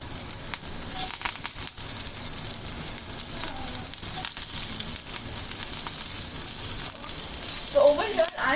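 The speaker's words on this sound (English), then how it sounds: "And then we will add our chopped green chilies." Chopped green chilies sizzle in hot oil with jeera and hing, a steady bright frying hiss running throughout with a few soft clinks and stirring sounds near the end.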